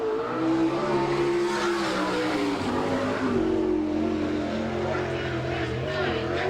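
A sprint car in the NCRA All Stars series laps a Salina, Kansas dirt track, its engine roaring loudly and steadily with shifting pitch throughout, while a voice talks faintly under the noise.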